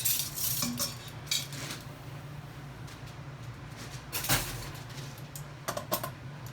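Metal oven rack clattering and scraping as it is pulled out in a home kitchen, with a few sharp rattling clanks over a low steady hum, no talk.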